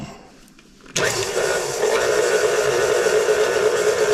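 A blender starts abruptly after a short quiet lead-in and runs at a steady, loud whirring pitch, mixing caramel chocolate chip cookie ingredients without pause.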